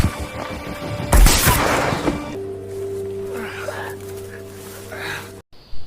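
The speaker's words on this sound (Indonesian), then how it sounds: "Raven pun langsung menembak saat itu juga." Sniper gunshot in a film, a single loud sharp blast with a short rumbling tail, followed by quieter scene sound while a narrator speaks.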